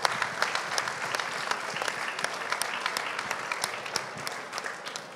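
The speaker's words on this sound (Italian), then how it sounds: "Chiederei a tutti un applauso" Dense, steady applause from a seated audience at a public presentation of a public-administration project, offered in tribute to Giovanni Falcone, Francesca Morvillo and their escort. Many hands clap continuously throughout, with sharper individual claps standing out.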